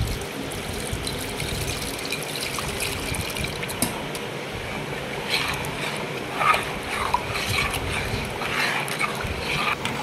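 Rava dosa batter with baking soda is stirred by hand into about a litre of water. The sloshing and gentle splashing go on without a break.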